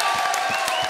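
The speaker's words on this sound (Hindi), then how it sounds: "जोरदार तालियां" An audience at a comedy stage show applauds and cheers a guest's entrance with dense, steady clapping and scattered whoops, loud and close, over a brief moment.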